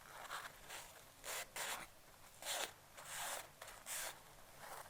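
A white paper towel rubs back and forth over paper painted with metallic watercolor, making a series of soft, brushy scraping strokes in short rhythmic bursts, faint and close.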